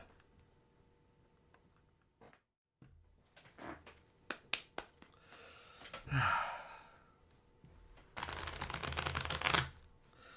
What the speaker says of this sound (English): learning how to shuffle like this really has saved my fingers